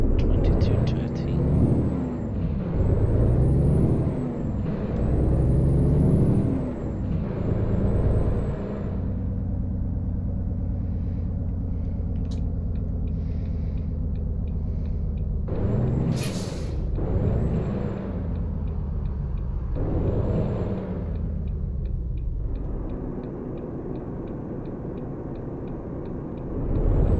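A large vehicle pulls away, engine rumbling low and heavy with a hiss of released air, gears changing as it gathers speed, people talking over the start.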